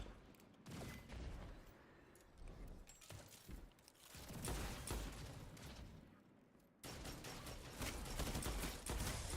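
Gunfire from the video game Destiny crackles in dense, continuous volleys with booms and mechanical clatter, steady and fairly loud throughout, with no voices.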